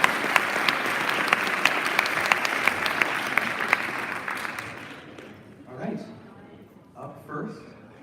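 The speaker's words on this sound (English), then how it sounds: "Let's get one more round of applause here for Poetry Out Loud 2023." An audience at the West Linn Poetry Out Loud 2023 event claps in a dense, steady round that thins and fades after about five seconds. Scattered voices follow in the quiet hall.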